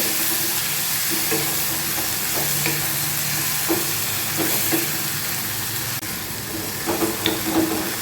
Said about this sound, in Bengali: এবার এতে দিচ্ছি ছোটো চামচের এক চামচ মানে হাফ টিস্পুন আদা বাটা এবার এটা আমি ভাজবো